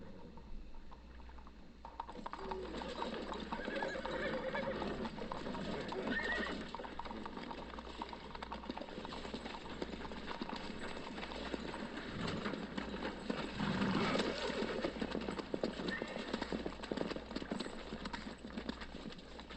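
Roach the horse gallops in The Witcher 3: Blood and Wine, a steady rapid clip-clop of hooves carrying on under game ambience with bird calls around it.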